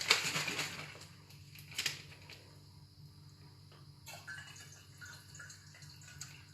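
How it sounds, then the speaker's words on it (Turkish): Sugar water poured for homemade whisky makes a splashy trickle, loudest at the start, then a quieter steady stream with light drips close by. "Şimdi şekerli suyumuzu atalım."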